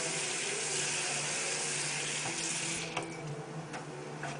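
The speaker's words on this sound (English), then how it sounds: "So just add maybe a cup and a half of water." Water runs steadily from a tap into a cooking pot for Kobe stew, a continuous splashing rush that shifts slightly near the end, with a few small clinks.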